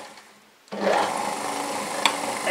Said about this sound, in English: if I can just turn a taper on this. It's a hammer shaft.